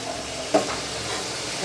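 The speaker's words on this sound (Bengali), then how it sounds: "এখন আদাটা দিয়ে আগে একটু ভেজে দিই" Ginger frying in a pan for a home-cooked Sunday meal, giving a steady low sizzle with a couple of brief stirring scrapes, close by and with no voices.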